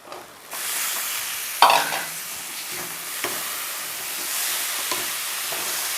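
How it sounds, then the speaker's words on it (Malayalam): Boiled banana stem frying in a pan, a steady sizzle with a few sharp scrapes and knocks as it is stirred, close and continuous with no voices. "ഒരു 2 മിനിറ്റ് ഇങ്ങനെ ഇളക്കിക്കൊണ്ടിരുന്ന് ഇളക്കി കഴിഞ്ഞിട്ട്"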